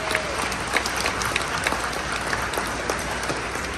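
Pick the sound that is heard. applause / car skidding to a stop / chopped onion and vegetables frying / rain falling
applause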